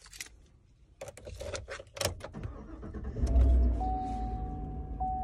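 A 2020 Chevy Silverado Trail Boss starts up with a few clicks and thumps, then the starter cranks and the engine catches into a quiet, steady idle hum, heard close from inside the truck.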